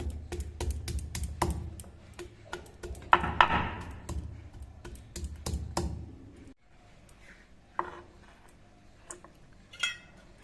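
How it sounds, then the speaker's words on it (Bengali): Fresh ginger being ground into paste by hand in a kitchen, a rapid series of sharp knocking and scraping strokes, close and fairly quiet, thinning out to a few scattered taps after a pause. "অল্প একটু আদা বাটা লাগবে তার জন্য আমি আদাটা বেটে নিচ্ছি"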